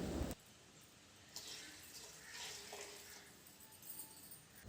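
Water pours steadily into a cooking pot holding rice and lentils on a kitchen stove, a continuous splashing rush that starts after a brief clatter and carries on for several seconds at close range.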